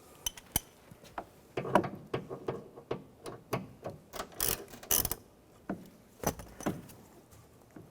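Screws on a 2007-2013 Mini Cooper exterior door handle being loosened with a T30 socket, a close series of irregular ratcheting clicks and metallic ticks with short bursts of faster clicking; no talking.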